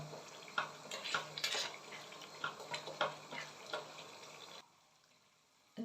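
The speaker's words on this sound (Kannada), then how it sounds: "ಚೆನ್ನಾಗಿ ಒಂದು 5 ರಿಂದ 10 ನಿಮಿಷ ಈ ಥರ ಚೆನ್ನಾಗಿ ಮಿಕ್ಸ್ ಮಾಡ್ಕೊತಾ ಇರಿ" Hair oil mixture stirred in a pan on the stove, a spoon scraping and clinking against the metal in steady repeated strokes close by, then stopping to near silence at the end.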